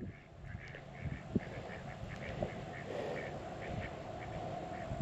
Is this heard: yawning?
no